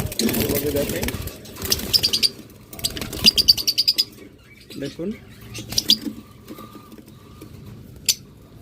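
A pair of double factor budgerigars chirps in scattered bursts of sharp tweets among other birds, with wing flutters and bumps close by.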